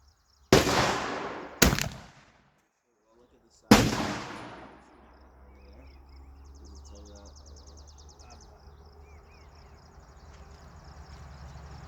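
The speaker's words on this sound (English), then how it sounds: "Out of the 4 shots, that was the worst shot." Three loud, sharp rifle shots firing 825 grain hollow point bullets crack and echo outdoors, the first two close together and the third after a pause, followed by quiet ambient noise.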